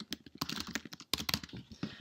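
Quick, uneven keystrokes clatter on a computer keyboard at close range, a steady run of light clicks with one brief pause midway and no talk.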